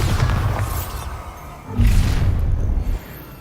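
Loud booming spell blasts from Bombarda in Hogwarts Legacy, a heavy low rumble at the start and a second big burst midway, with no talk.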